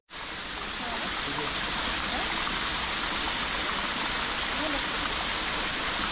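Gavli Dev waterfall in Navi Mumbai, running low in a light-rain season, pours in a constant, close, hissing rush of falling water, with faint voices barely audible underneath.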